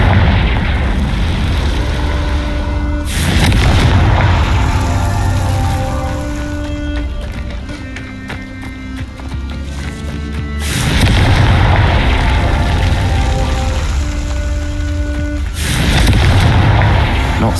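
Confringo fire spells in Hogwarts Legacy blast twice with loud booming explosions, each bursting suddenly and rumbling on, with quieter game sound effects and chimes between them.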